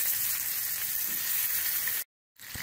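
Chicken pieces hitting about three teaspoons of hot oil in a pan over a medium flame, giving a loud, steady, crackling sizzle that holds for two seconds before cutting off abruptly.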